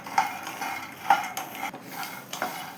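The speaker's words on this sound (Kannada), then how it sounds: "ಇವಾಗ ನಾನು ಕರ್ಬೇವಿನ ಸೊಪ್ಪನ್ನು ಆ್ಯಡ್ ಮಾಡ್ಕೊತಾ ಇದ್ದೀನಿ ಇದ್ರ ಜೊತೆಗೆ ಸೇರಿಸ್ಕೊಂಡು ಹುರ್ಕೊಂಡ್ರೆ" Curry leaves being stirred into peanuts roasting in a pan, with repeated scraping and clinking of a utensil against the pan over a light sizzle.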